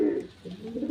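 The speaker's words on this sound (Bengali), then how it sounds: "এগুলো শর্ট সাইজের পায়রা হয়, খুব ভালো ওড়ান।" Short-sized Panjabi pigeons coo softly up close, a low throaty burble rolling twice within a single second with no voices.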